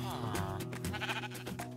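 Sheep in the Minecraft video game bleat repeatedly in wavering, nasal calls that overlap one another. Steady game background sound runs beneath them, and no one speaks.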